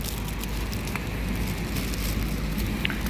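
Heavy, cold rain pours down beside rice fields as a steady, dense hiss with a low rumble underneath and a few faint drips standing out.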